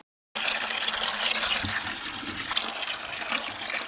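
Water gushes steadily from a garden hose outdoors while setting fence posts for a chicken run, a continuous close hiss after a brief silent start.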